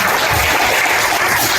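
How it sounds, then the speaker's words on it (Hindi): An audience at an awards ceremony for high-achieving students claps loudly and continuously, a dense, steady burst of applause with no talk. "ताली बजाएं।"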